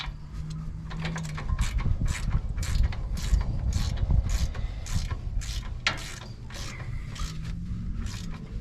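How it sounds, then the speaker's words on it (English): A hand ratchet tightens the upper ball joint on a squarebody pickup truck during a drop spring install, giving a rapid run of sharp, close clicks in repeated bursts with brief pauses, and no talking. "I'm just going to tighten up my upper ball joint first."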